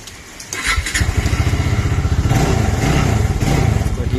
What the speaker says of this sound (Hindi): the bike has fired